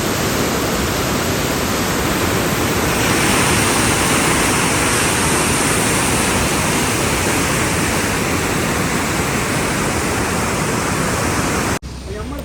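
Water of the Chaliyar river churns and turns back on itself in a loud, constant roaring rush that fills the scene and drops off abruptly at the very end.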